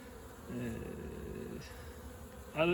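Honeybees hum around beehives at an apiary in early February, a faint steady drone that thickens briefly as a few bees pass closer.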